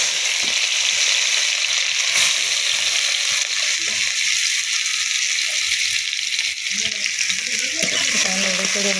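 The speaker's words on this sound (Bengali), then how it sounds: "তেল তেতে গেছে, পেঁয়াজ দিয়ে দিলাম।" Onion dropped into hot oil in a wok, frying with a steady broad sizzle and hiss throughout, close and fairly loud, with a few soft stirring clinks near the end.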